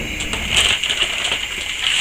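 Scissors snip the flap off a plastic garbage bag, giving a crisp, crinkly crunching of plastic that runs steadily up close, with no voice over it.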